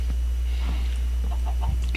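A chicken in the Minecraft video game clucks in short, scattered bursts over a steady low background hum, fairly faint and with no talking.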